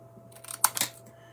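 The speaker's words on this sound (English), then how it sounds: "I'm going to snip that down with my big scissors." A pair of big scissors gives two or three quick, crisp snips through paper, close and fairly quiet, with no talking.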